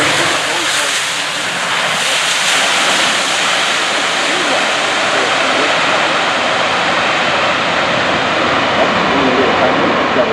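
An Airbus A380 with Rolls-Royce engines roars past during a 2014 Farnborough Air Show demonstration flight, a loud, sustained, rushing jet noise that holds almost constant and slowly loses its top edge toward the end.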